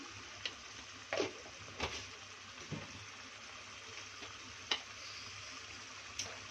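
A spoon stirs spices through egg curry in a pan, sparse scrapes and clinks landing irregularly over a soft, quiet background hiss.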